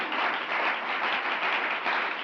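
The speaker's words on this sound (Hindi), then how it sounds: "जरा जोरदार तालियां बजाइए खुदा के लिए" A church congregation claps loudly and steadily in a dense, continuous burst of applause, many hands together with no pauses, filling the room without any voices over it.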